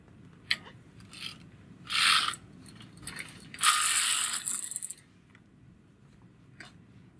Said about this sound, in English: the two cams that were closed will now be open and I will just knit across